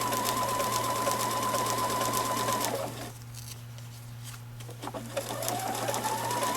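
A sewing machine stitches a decorative smocking line, its rapid, steady mechanical hum running loud and close, easing briefly in the middle before picking up speed again.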